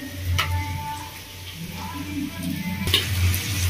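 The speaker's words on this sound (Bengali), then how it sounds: "পেঁয়াজটা ভাজা হচ্ছে" Chopped onions frying in a pan for a Bengali prawn curry, a steady soft sizzle with occasional clinks of a utensil, and a voice talking quietly over it.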